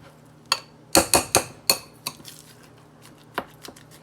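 A spoon mixing meatloaf mixture in a bowl makes several sharp clinks and knocks against the dish, bunched near the start, with a few quieter taps later and no talk.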